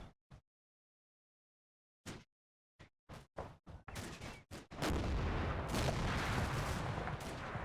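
A Panzer tank fires in the WWII Normandy strategy game Combat Mission: Battle for Normandy. Isolated sharp gun reports break silence, quicken into a volley, then give way to a dense, continuous roar of combat.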